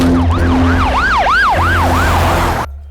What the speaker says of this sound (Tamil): ராஜுவை இப்பதான் ஆம்புலன்ஸ்ல ஏத்துனாங்க